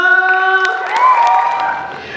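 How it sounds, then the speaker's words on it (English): An audience applauds a spoken word poet at a showcase, with a steady, close wash of clapping and some scattered cheers that taper off near the end. "I want you guys to give a round of applause for Gerardo!"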